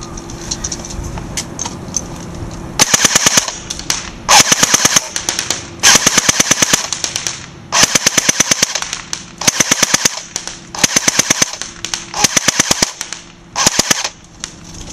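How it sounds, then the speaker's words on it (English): An AGM full-metal 614 airsoft gun fires fully automatic outdoors toward a distant target: about eight loud, rapid bursts of snapping shots, each a second or so long, separated by short pauses. "again, we'll be shooting fully automatic"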